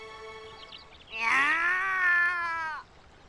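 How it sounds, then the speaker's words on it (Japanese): A cat meows once in the Sword Art Online Alicization Lycoris video game, a loud drawn-out wavering cry lasting about a second and a half, heard alone against quiet background. "猫の鳴き声だ。 向こうから聞こえた。"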